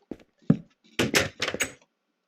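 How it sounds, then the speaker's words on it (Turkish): A wooden door breaking in Minecraft: a couple of short dull knocks followed by a cluster of louder, crunchy cracking hits, close and alone. "kazara kapıyı kırdım"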